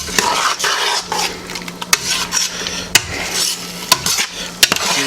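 Broccoli stirred into Alfredo sauce in a pan, with sharp metallic utensil clinks against the pan over a soft sizzle, close and loud.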